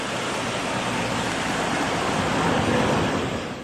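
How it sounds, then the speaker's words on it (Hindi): Floodwater rushing in the swollen Yamuna and Betwa rivers, a dense continuous roar of churning water, loud and close, swelling slightly toward the end. "उफान पर यमुना, बेतवा"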